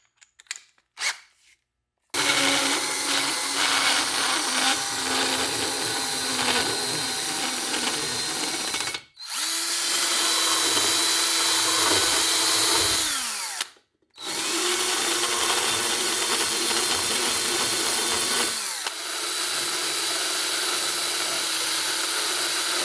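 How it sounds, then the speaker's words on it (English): A high-pitched power tool grinds and deburrs T5 performance transmission gears in long, loud, continuous runs, with brief pauses between passes and a short rattle at the start. "you still have to go over every gear and deburr them"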